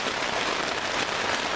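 Rain falls steadily at a campsite, a dense, even hiss of drops on surfaces, close and constant without a break.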